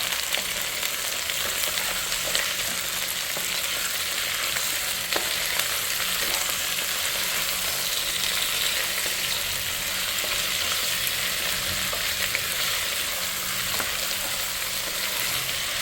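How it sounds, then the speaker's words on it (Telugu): Chicken is stirred and fried in a pan for a Sunday chicken dish, giving a steady, close, continuous sizzle with a few faint utensil clicks and no talking. "ఇప్పుడు చికెన్ ఒకసారి బాగా మిక్స్ చేసేద్దాం."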